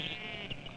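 Sheep raised for wool on mountainous tussock country in 1960s New Zealand bleat in a steady, nasal chorus through a brief stretch, fairly close and moderately loud with no talk.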